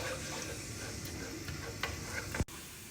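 Garlic sautés lightly in hot oil in a home kitchen, a steady close sizzle with faint stirring scrapes, ending in a sharp knock.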